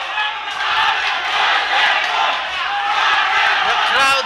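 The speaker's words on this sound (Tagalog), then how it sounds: "The crowd is chanting Wonder Boy" Boxing crowd at a super bantamweight title fight chanting a fighter's nickname, a dense roar of massed voices sustained throughout with rhythmic chant swells, loud and close.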